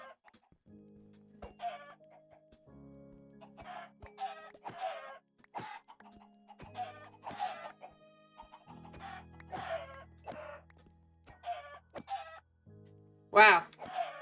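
Chickens in Minecraft cluck in short scattered bursts over a quiet musical background, with one louder cluster near the end.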